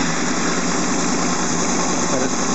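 Hot Honda VFR800 sixth-generation V4 motorcycle engine idling steadily at set idle speed, a loud continuous close-up drone with a smooth even rhythm and no talk.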